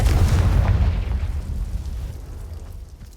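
A Confringo fire spell in Hogwarts Legacy bursts with a loud, close, deep boom, then rumbles and fades away over a few seconds.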